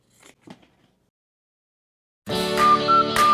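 Electric scissors cut through rug backing cloth: after a few faint soft rustles and near silence, a loud buzzing motor snaps on and whines close by for the final second.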